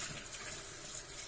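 A folded napkin dipped into water while washing greasy dishes, heard as a brief, close, continuous watery swish and trickle.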